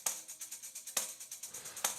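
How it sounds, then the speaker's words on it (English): A tambourine track from a rock song's chorus, its jingles shaking in a steady quick rhythm with sharper accented hits roughly once a second, bright and alone. "No, it's just tambourine."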